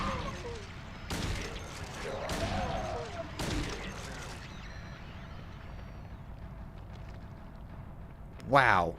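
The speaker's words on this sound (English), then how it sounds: "Wow, that was a lot of bullets." Rapid bursts of gunfire from the survival horror video game Silent Hill 2, several loud volleys in quick succession over the first few seconds, then quieter game ambience and a sharp closing noise.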